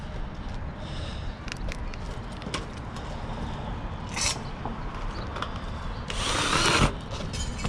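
A power drill drives screws for gutter strap hangers on a house roof, a steady outdoor whirring hum under ambient noise with short louder bursts as screws bite.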